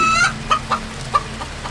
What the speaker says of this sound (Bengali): সে নর রাক্ষসের মুরগিটা